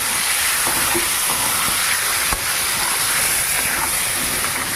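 Raw loitta, Bombay duck fish, hits hot oil in a pan, giving a loud, dense, continuous sizzle and hiss with a few faint pops and no talking.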